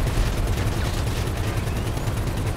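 Machine gun fire in GTA V rattles in a rapid, sustained burst of loud, low, pulsing shots that continues steadily throughout without pause.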